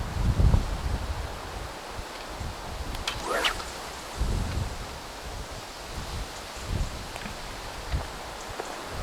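Wind gusts across an outdoor carp fishing lake, a soft steady rush punctuated by occasional louder buffets against the microphone and a brief whooshing swish midway.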